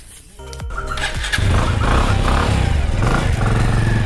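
A motorcycle engine starts with a couple of clattery cranks, then catches and idles loudly and steadily close by.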